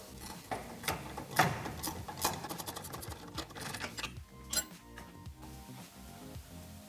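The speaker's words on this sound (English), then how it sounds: "you need two 19mm spanners, one to hold the nut, one to hold the, to undo the bolt." Two 19mm spanners working a bolt loose on a tuk tuk auto rickshaw CV shaft, with scattered metallic clinks and scraping clicks of tools against metal, fairly close and irregular, with no one talking.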